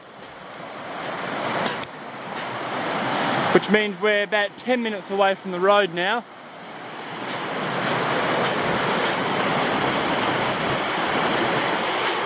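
Steady rushing water of Jackson's Creek beneath a suspension bridge fills the whole clip, with a person speaking briefly over it partway through.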